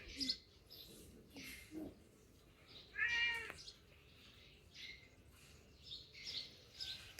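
A cat meows several times in a quiet home, the calls brief and moderately close, with a high chirping bird and faint background voices in between.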